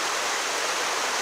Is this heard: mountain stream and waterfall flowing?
yes